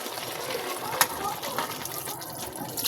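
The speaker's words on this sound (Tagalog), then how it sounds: "Pwede na nato ni ilunod ning unang piga nga gata" First-pressed coconut milk pours steadily into a cooking pot of gisadong langka, a soft continuous liquid gush and trickle with a brief splash near the middle, close and moderately quiet.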